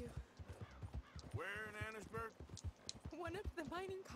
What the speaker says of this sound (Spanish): Lo bueno de tener un caballo fuerte y pro que llega rápido.